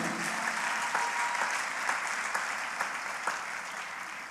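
A church congregation applauds during a sermon, a steady wash of many hands clapping at moderate distance, holding an even level throughout without voices.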